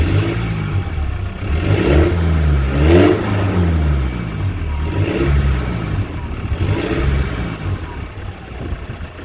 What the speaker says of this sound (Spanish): así es como suena nuestro 320D después de instalarlo en nuestra downpipe